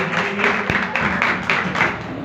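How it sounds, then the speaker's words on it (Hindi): Congregation clapping at a church service, a dense burst of hand claps with rhythmic peaks, fairly close and loud, lasting a couple of seconds. "तो जोरदार तालियां"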